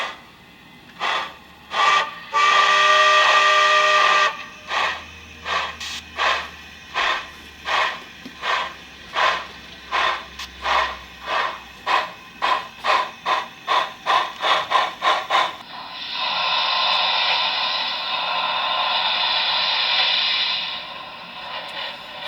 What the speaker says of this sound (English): the locomotive that I've just activated back there, number 606, is another BLI locomotive, and it has the BLI, I believe it's the Paragon 2 sound decoder in it